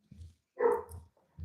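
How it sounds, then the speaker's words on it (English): A dog barks once at moderate distance in a quiet room, a brief, muffled woof between soft background thumps. "My dog's barking."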